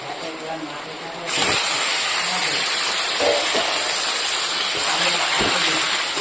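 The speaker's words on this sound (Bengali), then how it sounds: "মশলা কষানো হয়ে গেছে এবার আমি ধুয়ে রাখা মাংসটা দিয়ে দেবো" Washed meat going into spiced masala in a hot pan, with a sudden loud broadband hiss starting after a second and holding steady to the end, while rain pours outside.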